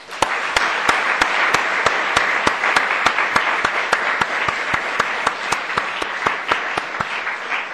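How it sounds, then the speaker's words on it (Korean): Applause from a Baptist church congregation, a full room clapping in unison with a steady, evenly spaced beat that holds at a constant level throughout. "여러분 박수 한번 하십시다."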